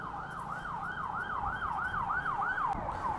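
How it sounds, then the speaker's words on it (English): An emergency vehicle siren wails in a steady rising and falling cycle out on a city street, clear and fairly close over a constant rumble of traffic. "there's sirens everywhere."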